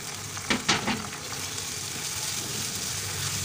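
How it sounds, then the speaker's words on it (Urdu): Tomatoes and green chilies sizzle steadily in hot oil for a Pakistani dhaba-style chicken karahi, with a few sharp stirring scrapes near the start before the even frying hiss settles in. "اور ان کو اچھی طرح ساتھ مکس کر کے بھونیں گے"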